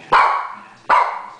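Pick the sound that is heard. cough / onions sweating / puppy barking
puppy barking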